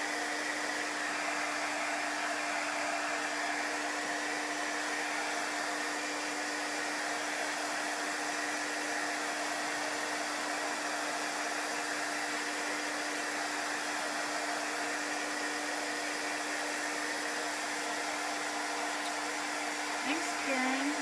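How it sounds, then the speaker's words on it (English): A hair dryer blows steadily on wet chalk paste for a craft project, giving a constant loud whooshing hum with a fixed motor tone throughout. "Blow dry it."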